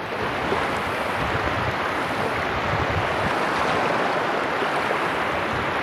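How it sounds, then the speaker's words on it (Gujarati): Floodwater from a swollen river rushes across a road during monsoon flooding in Gujarat, a steady loud roaring wash that fills the whole clip without letup and with no voices. "બાકી જો આ ફૂલ પાણી છે અટાણે,"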